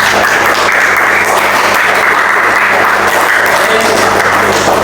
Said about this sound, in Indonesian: Yuk, mana tepuk tangannya dulu?